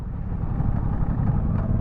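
Motorcycle engine pulling away in second gear at low revs on a small throttle opening, a steady mid-loud rumble throughout with no speech.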